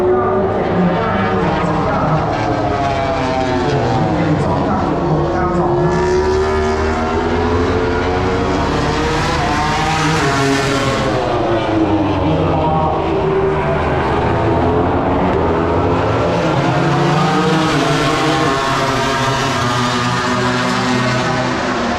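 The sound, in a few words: MotoGP racing motorcycles passing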